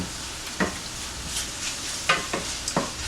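Mushrooms fry in olive oil and butter, a steady close sizzle with a few scraping stirs breaking through now and then.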